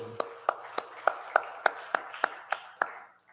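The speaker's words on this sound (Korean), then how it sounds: "박수" Clapping during a church service: about ten evenly spaced, sharp claps in a steady rhythm, fairly faint and slightly distant, fading out at the end.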